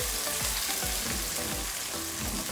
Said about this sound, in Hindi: ये जो मैंने प्याज चॉप की थी ये ऐड कर देते हैं हम इसमें, और इसको भी मैं अच्छे से साथ इसके भून लेती हूँ